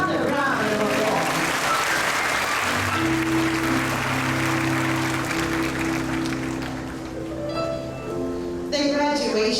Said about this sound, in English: Let's give our parents again another round of applause.